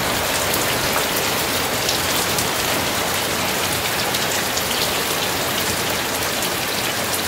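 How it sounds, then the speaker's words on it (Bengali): Steady rain falling around a homestead in Chisang, North Bengal, a dense, even patter on surfaces, loud and close throughout with no voices. "আজকে মোটামুটি ভালোই কম বৃষ্টি হচ্ছে, কিন্তু তাও যেটুকুনি হচ্ছে সেটুকুনি বেশ ভালো বৃষ্টি হচ্ছে।"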